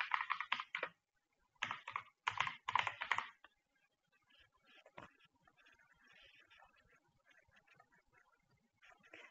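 Bursts of fast clicking keystrokes on a computer keyboard, close and crisp, in short clustered runs with pauses, followed by quieter scattered sounds with faint background noise.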